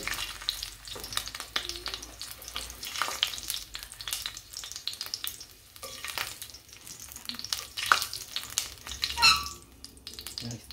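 Onion and garlic fry in oil in a pan with a soft, crackling sizzle and scattered stirring scrapes, close and fairly quiet, with no talking.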